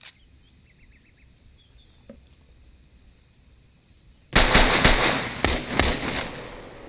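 Gunshots fired during close-quarters room-clearing training, several sharp, loud cracks in quick succession near the end after a quiet stretch of faint insect-like background.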